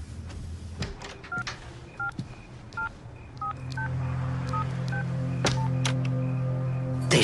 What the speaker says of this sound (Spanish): Te estoy llamando ahora mismo.